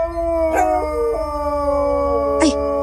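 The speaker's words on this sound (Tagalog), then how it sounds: "May umaalulong ng mga aso." Dogs howl at night in a rural Philippine village, heard as two long, loud, drawn-out wavering howls that rise and fall, close by and with no talking over them.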